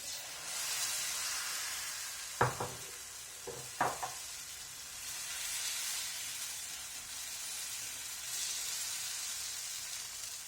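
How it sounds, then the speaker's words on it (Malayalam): Oats dosa batter sizzles on a hot pan over medium flame, a steady bright hiss with a few sharp clinks of a utensil partway through. "ഇനിയിപ്പോൾ നമുക്ക് ദോശ അടച്ചു വെച്ച് മീഡിയം ഫ്ലെയിമിൽ വെച്ച് കുക്ക് ചെയ്തെടുക്കാം"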